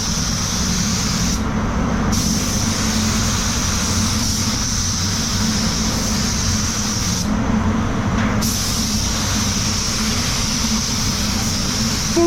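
A Gunman Edition GTI Pro spray gun with a 1.3 tip lays standard clear coat on a Hyundai Tucson at full fan and full fluid, just under 2 bar: a loud, continuous close hiss that thins briefly twice.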